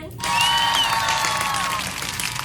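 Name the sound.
round of applause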